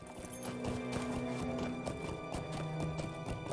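Rhythmic clip-clop of horse hooves while riding in the video game LOTRO, steady and moderately loud over game music and ambience.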